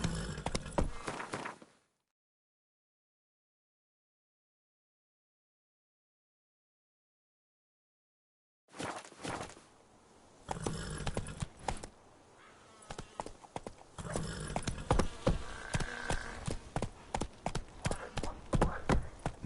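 Roach, a horse in The Witcher 3 game, clip-clops with steady hoofbeats after a long silent gap, the trotting rhythm loud and close through the second half.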